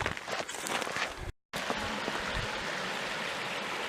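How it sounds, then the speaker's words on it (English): A small mountain stream runs high in the hills near Palm Springs and Joshua Tree, a steady close rush and trickle of water, briefly cut by a short gap of silence. "So there we have a little stream running high up in the mountains."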